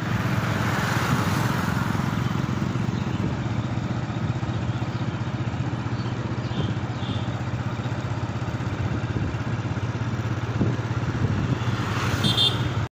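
A motorcycle running steadily the whole way, a continuous mid-pitched engine drone with some rattling clatter, fairly close and constant in level.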